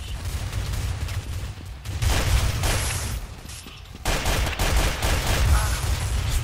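Sustained gunfire from Counter-Strike: Source fills the stretch, with dense rapid bursts and booming low-end impacts running continuously at close, loud level and no clear voices.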